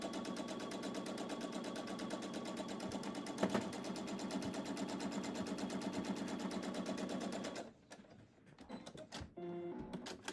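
A sewing machine runs a 1/4 inch seam on wonky-cut 4-patch quilt blocks, a close, even mechanical hum with a steady rapid stitching rhythm, then stops and gives way to faint handling clicks.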